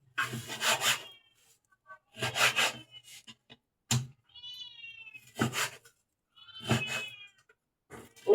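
A fussing house cat meows in a kitchen where pork adobo is being cooked over a charcoal stove, giving several separate drawn-out cries with quiet gaps between them, close and loud.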